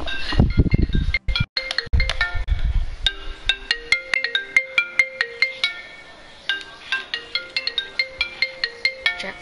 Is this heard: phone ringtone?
yes